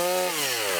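Chainsaw pollarding young trees, cutting off their tops: a loud, steady close-up engine whine holding one pitch, then dipping slightly as the chain bites into the wood.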